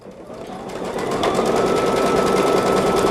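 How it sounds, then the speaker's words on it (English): Sewing machine stitching fabric down, a rapid steady whirring chatter that starts up and runs continuously, close and loud. "it's going to stitch it down"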